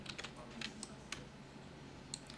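Soft keystrokes on a computer keyboard, including the Alt key, sound as a handful of light, scattered clicks over a quiet hum, faint and close with no voice.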